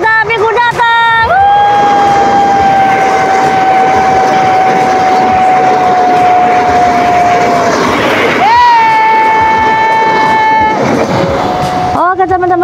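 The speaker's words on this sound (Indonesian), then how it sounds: "kereta api yang baru saja melintas adalah kereta api CC203 Logawa" A CC203-hauled Logawa passenger train sounds its loud horn in long sustained blasts, then several more, while the heavy rumble of cars rolls past close by at the Trangsan level crossing.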